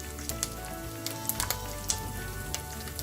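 Curry leaves and dried red chili dropped into hot oil for a watermelon rind sambar, giving a loud, steady close-up sizzle with crackling pops and spits throughout.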